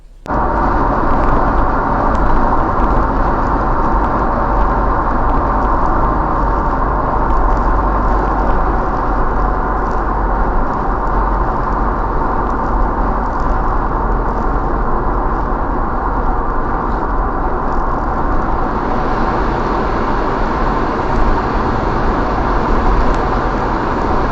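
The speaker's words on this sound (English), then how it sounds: "check out this 1-minute daytime driving clip" Daytime driving captured by a Vantrue Element 1 dashcam gives a steady, loud, unbroken road rumble and engine drone that runs without variation, with no voices.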